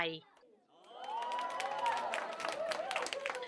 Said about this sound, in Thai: ชาวสิงคโปร์นั่งอมยิ้มและปรบมือให้กำลังใจ